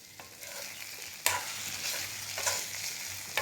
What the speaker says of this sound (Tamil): இப்போ கொத்தமல்லி தழை லேசாக தூவி விட்டு ஒரு பெரட்டி எடுத்துடலாம்